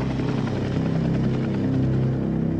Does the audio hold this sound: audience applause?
no